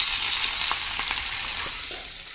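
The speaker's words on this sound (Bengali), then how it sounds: "পেঁয়াজটা যখন লাল লাল করে ভাজা হয়ে গেছে" Chopped onions frying in hot oil, giving a loud, steady, close sizzle with a few faint stirring scrapes underneath.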